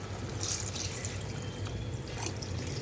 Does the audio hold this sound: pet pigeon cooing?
no